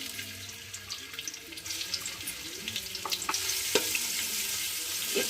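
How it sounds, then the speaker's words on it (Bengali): Onions drop into white oil in a pot, the crackling fry building from light scattered pops to a denser, louder sizzle in the second half. "এবার সাদা তেল দিয়ে দিচ্ছি হাঁড়িতে।"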